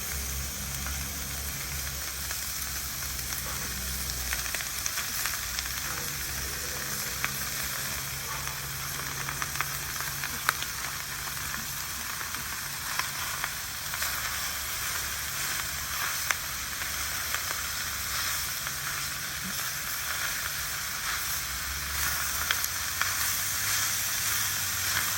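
Carnitas and pork sausage sizzle steadily in a hot pan over a low heat for leftover fajitas, a continuous close hiss with faint crackles and a low hum beneath.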